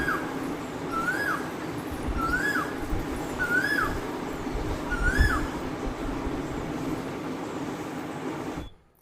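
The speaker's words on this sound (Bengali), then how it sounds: "খুব সুন্দর পাখি ডাকছে সকালবেলা" Morning birdsong outdoors, one bird repeating a clear rising-and-falling whistled call four times at regular intervals over a soft background hum, before the sound cuts off abruptly.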